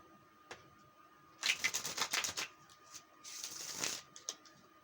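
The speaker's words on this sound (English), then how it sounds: "I'll shuffle them once or twice so you guys can see it," A tarot card deck being shuffled by hand, two crisp bursts of rapid riffling cards separated by a short pause, close and clear against a quiet room.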